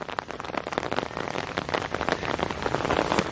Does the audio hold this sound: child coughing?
no